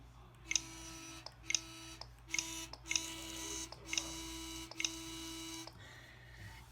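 A blue Nintendo Switch Joy-Con controller gives a series of about seven sharp, close clicks and rattles at roughly one-second intervals over a faint steady hum.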